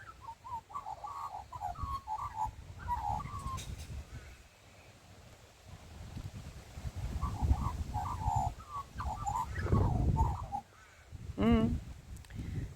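A magpie near a backyard stingless-bee hive gives bursts of warbling, chattering calls, close and fairly clear, with pauses and a low rumble in between.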